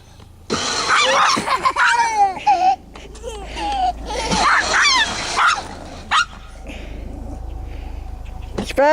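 Spike the pet dog lets out excited, whiny barks and yelps in two main bursts in a backyard, close and loud, mixed with crying-like whimpers and a voice nearby.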